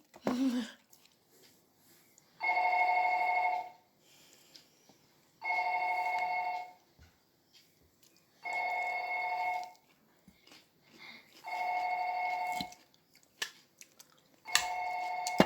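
Telephone ringing from the Japanese horror film Ring, heard as five evenly spaced electronic rings of about a second and a half each, separated by pauses of quiet room noise, moderately loud and close.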